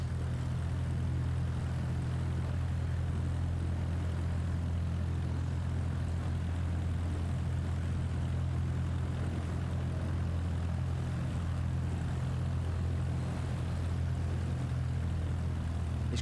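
Propeller aircraft taxiing on a grass runway in Flight Simulator 2024, a steady, loud engine drone with a deep low hum that holds level throughout, no voices.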